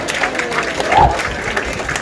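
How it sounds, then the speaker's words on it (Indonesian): Applause from an audience at a school ceremony for a senior high school class, a moderate patter of clapping that swells briefly and continues under quiet voices. "Tepuk tangan."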